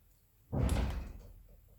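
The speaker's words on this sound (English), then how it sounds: "That door is closed." A door swings shut indoors with one broad, muffled thud that fades over about a second, no talking.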